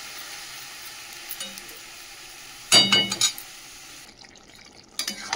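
Chicken sizzles gently in a covered pan over a lowered gas flame, a soft continuous frying hiss broken by a few clinks of a spoon or lid on metal.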